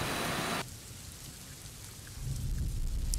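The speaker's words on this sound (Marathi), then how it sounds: "एक तर मुसळधार पाऊस सुरू आहे" Heavy monsoon rain pours down near the Mumbai–Nashik Expressway, a steady wash of rainfall that is bright and loud at first, then duller and quieter, with low rumbling swelling again toward the end.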